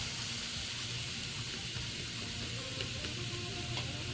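Vegetables sizzle and crackle steadily in a hot pan, releasing their water, a dense, even hiss with occasional pops, close and continuous.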